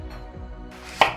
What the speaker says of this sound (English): cut around the core